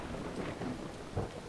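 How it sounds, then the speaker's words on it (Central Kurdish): A stormy night in the video game Brothers, with steady rain and low rumbling thunder rolling underneath, a brief stretch of dense, even noise. "جەوێکی باراناوی"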